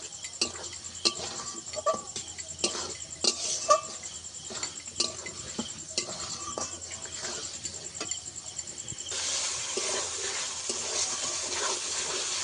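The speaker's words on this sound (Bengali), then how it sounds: "মগজটাও এর সঙ্গে ভালো করে একটু কষিয়ে নেব" Poppy seed and melon seed paste fries in oil for a paneer dish, with frequent short spatula clicks and scrapes over a low sizzle that grows into a steadier hiss toward the end.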